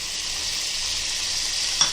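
Tomatoes sizzle steadily in a pan of fried onion, ginger and garlic for a Konkani mutton pulao, a constant close frying hiss with a faint stir near the end.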